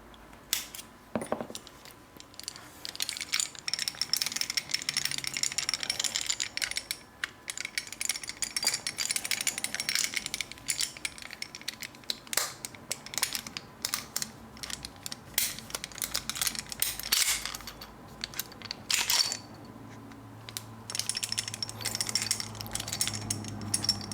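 Small metal parts of a 1911 pistol click and scrape as the takedown pin and slide stop are fitted back in, with sharp irregular ticks and ratcheting snaps close by, steady throughout.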